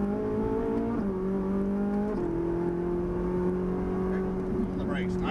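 Ferrari 458 Italia V8 climbing to about 6000 rpm on a racing circuit, a loud steady engine drone with rising harmonics that step up at each shift, heard from inside the car under an instructor's voice.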